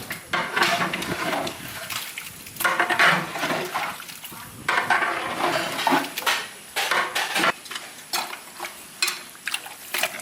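A cook stirs a large metal pot of food for a traditional village wedding. A ladle scrapes and clanks against the pot in repeated, fairly loud strokes over a soft sizzle, with no talking.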